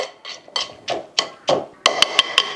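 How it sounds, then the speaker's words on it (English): A pastry blender smashes corn kernels in a bowl, giving a series of rhythmic muffled thuds that turn into four sharp, bright taps near the end, close and fairly loud. "I'm actually gonna come in with my pastry blender and just smash these up a little bit"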